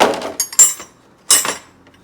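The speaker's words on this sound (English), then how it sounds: "Get out wrenches." Metal wrenches clink and clatter as they are pulled out while fitting upgrades to a Harbor Freight pressure washer, in two short bursts of close, bright knocks separated by a pause.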